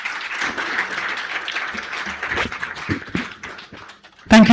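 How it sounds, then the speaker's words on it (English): An audience applauding at an awards ceremony, a dense wash of clapping that swells and then fades over a few seconds before a brief louder burst cuts in at the end. "Ladies and gentlemen, let's give her a big, big round of applause."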